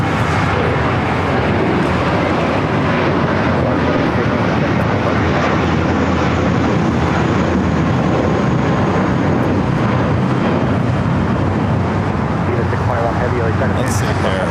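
An American Airlines jet at LAX gives a steady, loud roar of engine noise that fills the whole stretch with no clear break.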